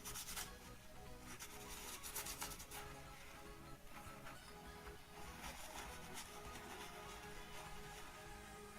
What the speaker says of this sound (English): I'm just going to try and wipe all that off and get it nice and clean.